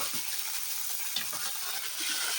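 Curry leaves frying in hot oil over low heat, a continuous bright sizzle with a few crackling pops, close and steady with no voices.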